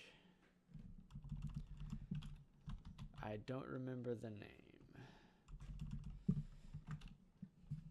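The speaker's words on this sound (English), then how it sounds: "And I'm typing in the wrong box." Clattering keystrokes on a computer keyboard during a modded Minecraft session: quick, close bursts of typing with short pauses, while someone speaks briefly between the bursts.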